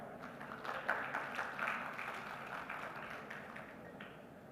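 Audience applause at India Maritime Week 2025 as an official, the DG Shipping, is introduced: a steady, fairly faint patter of many hands clapping for several seconds in a large hall, with no talk over it.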